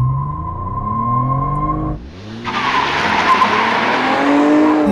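A 2020 Toyota Camry TRD revs up under full throttle, engine note climbing for two seconds before a brief lift, then loud tire squeal and roaring acceleration continue, close and without talk.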